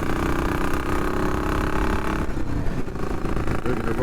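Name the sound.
motorcycle engine as riders set off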